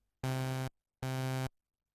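Two identical synthesizer notes with the envelope sustain level at about half, each held for about half a second with a flat level, then an abrupt stop and silence between them, played alone.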